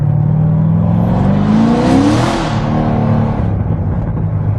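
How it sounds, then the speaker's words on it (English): A modified 2009 Chevrolet Corvette Z06 roars loudly while driving, its exhaust droning deep and steady before rising in a sweeping surge of revs that peaks midway and settles back into a heavy, continuous rumble. "this exhaust is like, it's just like a freaking monster truck is right behind you, and it's just roaring the whole time"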